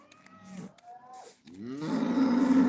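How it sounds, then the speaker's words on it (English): Cows mooing, several drawn-out low moos in succession, the last one loudest and longest, close and clear with no talking. "came back, still hearing the cows mooing."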